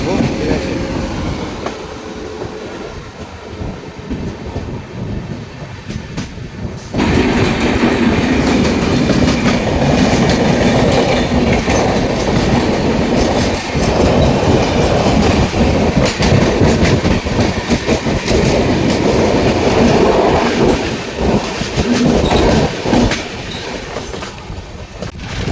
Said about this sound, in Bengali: উঠে পড়েছি ট্রেনের এই রকম শব্দে